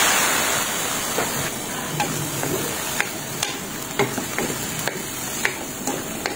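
Broccoli and cauliflower stir-fry with a soy sauce mixture in a hot pan, a steady hissing sizzle broken by regular sharp clicks and scrapes of a utensil stirring every second or so.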